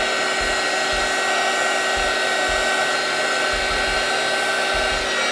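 A heat gun blows a steady, loud, close whine and rush of air while shrink-wrapping a bar of honey and turmeric soap, with faint soft thumps underneath as the soap is handled.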